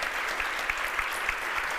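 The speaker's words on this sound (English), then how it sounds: "Please, an applause for Rogier Braakman." Audience applause at a hospitality innovation talk for a guest speaker, dense and steady clapping from a sizeable crowd, heard alone with no speech.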